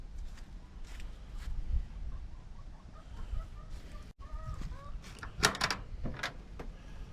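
Chickens cluck in short, soft bursts against a noisy outdoor background, with a few sharper squawks and a brief knock partway through.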